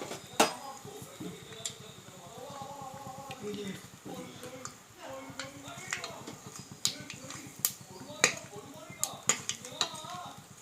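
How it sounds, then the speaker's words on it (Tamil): Mustard seeds and asafoetida spluttering in hot oil in a pan for Tamil tomato kadayal, with scattered sharp pops and crackles over a steady sizzle and occasional utensil clinks. "பெருங்காயம் கடுகுலாம் நல்லா பொரிஞ்சு வெடிச்சிச்சு."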